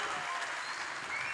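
An audience claps steadily and densely throughout at a culinary arts and tourism trades event, a continuous burst of applause without pauses.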